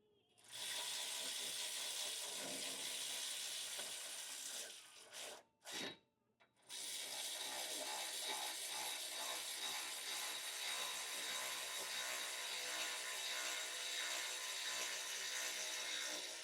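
Bolts being snugged down on a brush bar installation on a sixth-generation Toyota 4Runner, with a steady close mechanical whirring or ratcheting that runs almost continuously, broken by a brief pause midway.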